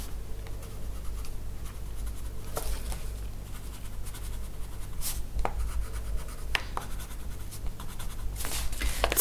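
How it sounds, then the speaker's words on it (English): A Luminance white coloured pencil scratches across colouring-book paper to add highlights, with soft, close, intermittent strokes and a few sharper scrapes over a quiet background. "On to the luminance white pencil to add a few highlights."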